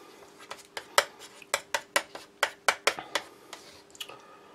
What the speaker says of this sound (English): Just going to add a little bit of the cheese to the main meal.